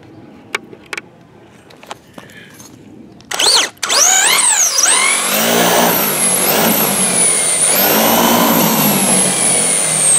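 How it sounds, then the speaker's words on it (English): A handmade rail dragster prototype engine fires with a few sharp pops, then revs hard and screams at full wheel speed as the tires spin, rising and wavering in pitch, loud and close. "But I want to show you what these tires do. It gives you an idea of how much wheel speed this thing has."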